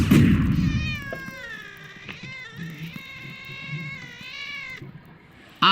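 A cat meows repeatedly in the Polda 6 video game, a series of drawn-out, wavering cries, some stretched into a caterwaul, close and clear over soft background game noise.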